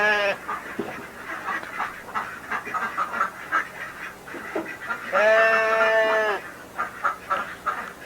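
Sheep bleating in a video game, a loud, drawn-out wavering cry repeated a few times, the longest one near the end, with other game sounds and shorter calls between them.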